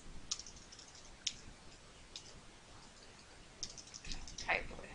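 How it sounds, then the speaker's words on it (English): Sparse keystrokes on a computer keyboard, quiet clicks spaced about a second apart before a quicker little burst of typing near the end, faint against a low background hiss. "The way you change the text is you simply type over it."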